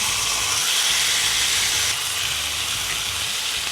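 Fish frying in hot oil on a stove, giving a loud, steady hiss and sizzle that holds continuously throughout, close by, with no talking.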